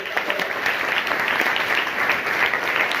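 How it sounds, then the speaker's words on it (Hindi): Loud applause for a teacher at a school gathering, many children and adults clapping together in a steady, dense roar throughout. "एक बार भैया के लिए जोरदार ताली"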